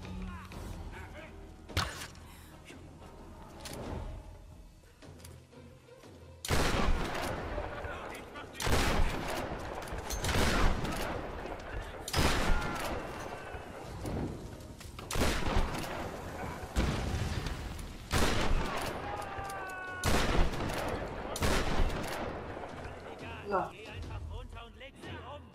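Repeated gunfire bursts from the video game Tomb Raider (2013), loud sharp shots and volleys spaced through a combat scene with game music and effects underneath and a voice talking intermittently.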